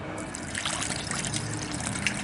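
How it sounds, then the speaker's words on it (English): Coolant or water poured into a car radiator, a steady close trickling and splashing stream running continuously with no voices. "I poured about half a radiator full in there to start with"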